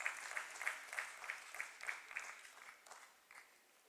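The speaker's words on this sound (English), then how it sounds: "Let's welcome Mr. Harvansh Chawla with a big round of applause." Faint scattered applause at an investment and global affairs conference welcoming a speaker, distinct claps in a loose rhythm from a modest audience, thinning out toward the end.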